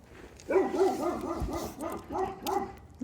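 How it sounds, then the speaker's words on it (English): A dog barks loudly and close by in a rapid series of about eight sharp, ringing barks over roughly two and a half seconds, with no talking. "That was a crazy bark."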